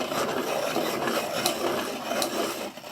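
A sepia coloured pencil is sharpened, giving a continuous close, dry scraping rasp for about three seconds with a few brighter scratches and no voices.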